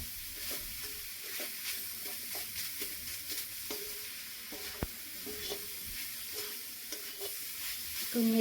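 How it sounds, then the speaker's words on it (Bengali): Jaggery is stirred into food in a frying pan, with faint, irregular scraping and light sizzling that stay quiet and close, and no talk. "গুড়টা দিয়ে একটু মিশিয়ে নেব।"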